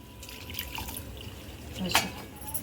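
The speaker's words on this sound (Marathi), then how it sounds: "आता हे पोहे मी धुवून घेतले" Flattened rice (poha) rinsed in water, with a soft trickle and a brief splash near the end, faint and close.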